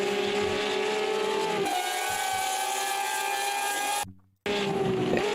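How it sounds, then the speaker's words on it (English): Race car engine in a racing sim championship event, a steady high-pitched whine with a sharp gear change and a brief cut to silence before the revs pick up again. "That's what it sounds like when we speed up."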